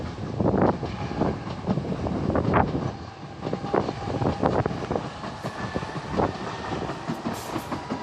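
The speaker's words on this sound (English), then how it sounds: "You should see a train just go past any minute." A train rumbles past nearby on a railway in London Docklands, heard from beneath the line, with rhythmic clattering from the wheels on the track, and wind buffets the microphone throughout.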